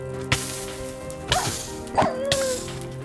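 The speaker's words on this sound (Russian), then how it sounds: "Собаки ко мне через портал прошли." Dogs in Minecraft giving a few short, separate barks and yips, close and fairly loud, over a steady tonal hum in the background.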